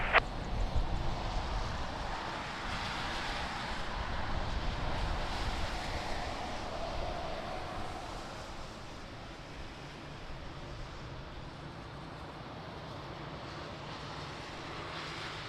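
Jet airliner arriving on runway 20 at Lisbon Airport in rain, a broad continuous engine roar with wind-like rush, strongest early then easing to a steady lower drone as it passes.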